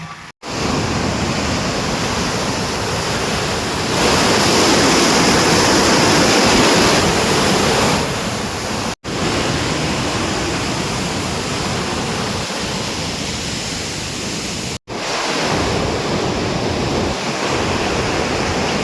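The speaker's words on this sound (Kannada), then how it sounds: "ಕೆಳಗಡೆ ನೀರು ಹರಿತಾ ಇದ್ದಾವೆ" Krishna river water flowing below a hillside temple, a loud, continuous rushing roar heard steadily from nearby, with brief dropouts marking a few cuts.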